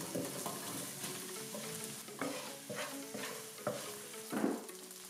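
Chopped onion sizzles steadily in a hot pan that just held browning beef, with a stirring utensil scraping and clacking against the pan every second or so, fairly quiet and close.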